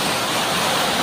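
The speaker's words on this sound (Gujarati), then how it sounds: "આ મિત્રો વડી મોટરનું પાણી આવે છે" Water gushing from a big motor pump into a well, a loud, continuous rushing roar heard close up with no pauses.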